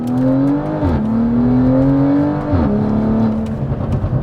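A tuned BMW M340i engine revs as the driver downshifts, with two sharp blips where the pitch drops and then climbs steadily under load, loud and close from inside the car.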